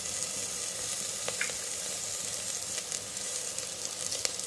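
Onions, ginger garlic paste, mint and coriander frying for mutton curry give a steady, even sizzle that stays close and moderately loud throughout, with a few faint clicks of stirring and no voices.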